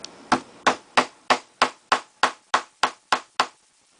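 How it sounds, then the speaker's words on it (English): Eleven crisp, evenly spaced taps of a Tim Holtz texture hammer striking brads on a craft mat, close and moderately loud with a quick steady rhythm, then silence. "I like to get my Tim Holtz texture hammer out"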